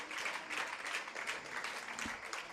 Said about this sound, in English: Let's give Lucas Lucas Garcia an applause